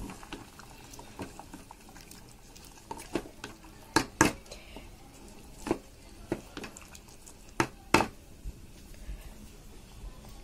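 Chopped chayote being stirred in a cooking pot: irregular metallic clanks and scrapes of a spoon against the pot, some sharp and close, over a faint background hum.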